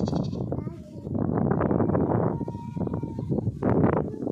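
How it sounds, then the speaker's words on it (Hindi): Goat bleats in a village farmyard in Khanpur, Rahim Yar Khan district, repeated loud calls close by with a continuous bleating texture across the whole stretch. "ये बकरी की आवाज़ देखें"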